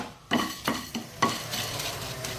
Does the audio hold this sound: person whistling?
no